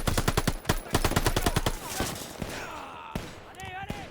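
Machine gun fire in the Call of Duty Vanguard campaign, a rapid loud burst of evenly spaced shots, then scattered single shots as shouting voices take over.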